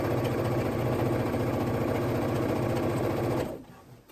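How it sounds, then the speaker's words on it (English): A sewing machine stitching a straight seam in fabric for a dress runs in a steady, rapid mechanical whir at close range, then stops abruptly near the end. "I make sure that I'm keeping my presser foot the same distance from the edge all the way for a nice, clean, straight seam"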